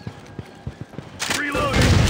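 A grenade blast in the shooter game Critical Strike, on a defuse map set in Italy, erupts loudly after a run of soft footsteps and clicks, a broad booming burst that swells and rolls on to the end.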